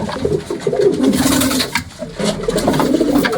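A male HMT pigeon cooing close by, repeated throaty rolling coos in a steady rhythm, loud and clear, with faint background rustle and no talking.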